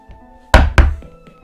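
Two heavy knocking thuds, a quick double bang on a door or wall in the video game Trilby's Notes, sounding close and loud over a quiet hum.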